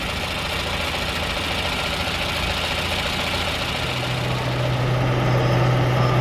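A Farmall tractor engine idles steadily while being winterized, a constant low rumbling drone with an even knocking pulse that stays loud and close throughout, with no voices.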